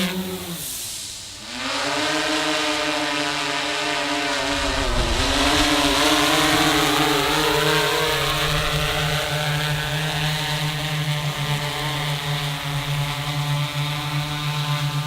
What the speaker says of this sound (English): Or I can just let it sit there and hover, which is really cool.